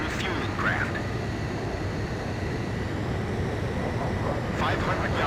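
Fighter jet engine in the Ace Combat 5 flight game during a mid-air refueling approach, a steady low roar with broadband rumble and brief whooshing sweeps, continuous and loud.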